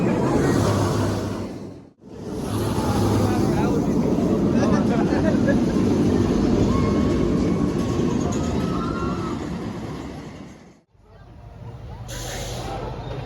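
Roller coaster ride on Pantherian at Kings Dominion, a loud continuous rumble and roar of the train running along the track, with brief drops in level, and voices mixed in underneath.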